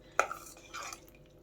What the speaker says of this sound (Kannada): ಸೆಕೆಂಡ್ ಟೈಮ್ ಮತ್ತೆ ನೀರು ಹಾಕ್ಕೊಂಡು ಮತ್ತೆ ವಾಶ್ ಮಾಡ್ತಾಯಿದ್ದೀನಿ